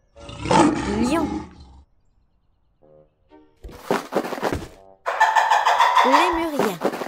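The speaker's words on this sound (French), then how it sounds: "Lion." A cartoon lion from a children's animation roars loudly in several bursts, with short gaps of near silence between them.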